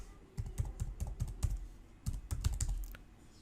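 Fingers tap out a domain name on a computer keyboard in quick bursts of close, crisp keystrokes, with a brief pause in the middle before a second run of typing.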